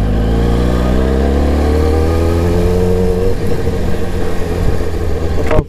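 A Yamaha R1 motorcycle engine revs above 3000 RPM, a loud, close, continuous mid-range drone that climbs in pitch and then holds steady, with nothing else heard over it.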